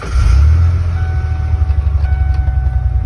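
A 1996 Ford F-150 pickup with the 300ci inline-six engine, fresh from a distributor cap and rotor replacement, runs with a loud, steady low rumble close by, no voices over it.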